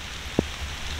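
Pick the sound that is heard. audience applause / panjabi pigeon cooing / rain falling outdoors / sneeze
rain falling outdoors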